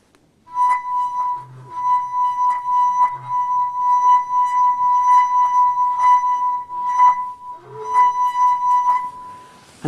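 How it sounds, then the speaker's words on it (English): A finger rubbed around the rim of a wine glass makes it sing with a pure, steady ringing tone that builds and sustains for several seconds, close and loud, with faint rubbing pulses and a brief break before it resumes. "If I make this one sing by rubbing my finger around the top of the glass"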